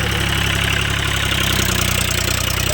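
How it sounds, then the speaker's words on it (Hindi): A tractor engine idles close by at a farm field, a dense, steady knocking chug running unbroken throughout. "अब ट्रैक्टर का सीन है, देखो।"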